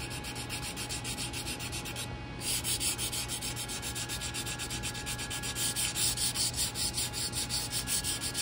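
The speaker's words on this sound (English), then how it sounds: "so I'm kind of angling the sanding block so it goes right down that" A sanding block rasps back and forth along a wooden flintlock rifle stock in quick, even strokes, a close and steady scratchy rhythm with no voices.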